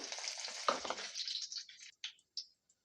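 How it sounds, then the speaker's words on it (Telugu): Mustard seeds, cumin and torn dried red chilies sizzle in hot oil with a dense crackling hiss that thins out, ending in a few scattered sharp pops. "కొన్ని ఆవాలు వేస్తున్నాను కొంచెం జీలకర్ర అలాగే రెండు తుంపుకున్న ఎండుమిర్చి ముక్కలు"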